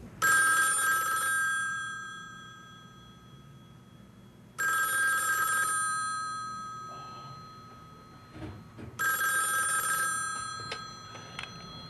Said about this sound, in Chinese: 大虎，电话打通了。